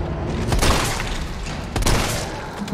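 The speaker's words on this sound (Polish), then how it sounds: "dwa dobre strzały strzelbą w głowę i pada" Two heavy shotgun blasts from the video game Resident Evil 3, loud and booming, the first around half a second in and the second near the end, each followed by a rumbling decay.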